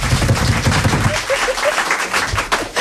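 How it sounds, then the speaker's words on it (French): A studio audience claps loudly and continuously for about three seconds on a French television talk show, a dense wash of hand claps with faint voices beneath. "On applaudit Mickaël."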